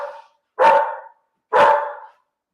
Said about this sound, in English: We'll wait for Marley to stop barking